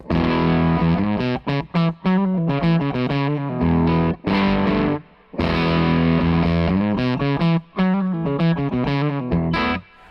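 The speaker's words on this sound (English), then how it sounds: "we switched over to these NOS military transistors there, and that's a really cool tone" Electric guitar runs through a Hello Sailor Effects Broadside fuzz pedal switched to its vintage mode with NOS military transistors, playing loud, thick, buzzing fuzzed chords and notes in choppy bursts with short gaps between phrases.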